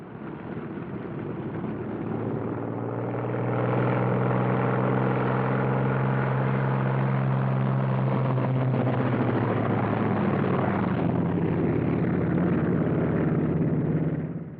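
World War II P-47 Thunderbolt fighter planes taxiing out, their big radial engines giving a steady, loud, rough drone that swells a little and holds throughout, with no voices.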